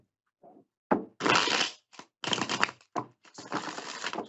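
Tarot cards are shuffled close by during a reading. Several quick bursts of crisp riffling and flapping arrive in irregular clusters, separated by short silences.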